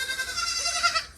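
Goats bleat inside a goat barn, a single drawn-out wavering cry heard close and fairly loud without speech.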